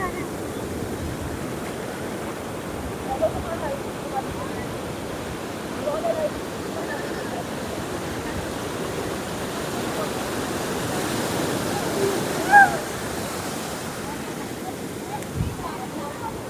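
Ocean waves washing in at Betalbatim Beach in Goa, a continuous broad surf roar with wind noise on the microphone, a few brief splashes rising above it and voices faintly in the background.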